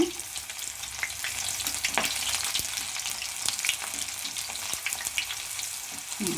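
Garlic fries in hot oil, giving a dense, steady sizzle with close-up crackle that holds throughout without any talking.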